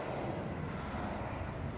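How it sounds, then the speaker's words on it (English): An airplane flying over a hillside, taking off or landing, heard as a steady broadband roar with some wind noise throughout, fairly distant and unbroken. "Plane just landing in there, I didn't know, probably just taking off."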